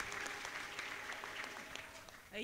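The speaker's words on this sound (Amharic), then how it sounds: "ለጌታ አለልታ ጭብጨባ ይሁንለት" A church congregation claps for the Lord, a steady, dense patter of many hands sustained throughout, with a brief louder swell at the very end.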